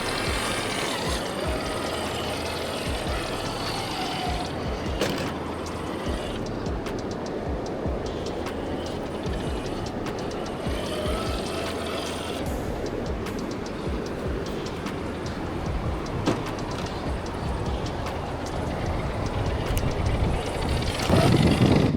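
A Rlaarlo JK-07 RC jeep with a 2-speed transmission in high gear crawls over rocks, its motor whirring and grinding steadily and fairly close, with scattered clicks and knocks from the tires and suspension on stone.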